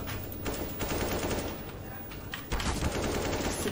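Rapid bursts of automatic gunfire from a CS:GO match, dense and continuous with a louder flurry near the end, no voices over it.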